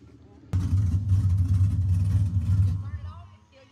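A small caged car's engine fires up abruptly and idles roughly with a low throbbing rumble, revving slightly before cutting back and fading out, as voices talk over it.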